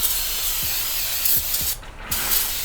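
Cleaner is sprayed onto the flywheel of a BMW E46 during a stage 4 clutch install, making a close, steady aerosol hiss broken by a few short puffs and a brief pause near the end.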